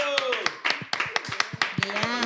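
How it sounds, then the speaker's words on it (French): A small group claps at a venue in an irregular, loose rhythm, with sharp individual claps cutting through while people talk over them. "Applaudissez pour notre richesse"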